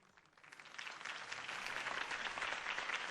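Crowd applause swells at a political campaign speech in the Batman Telltale video game, many hands clapping densely and rising from quiet to full, sustained volume.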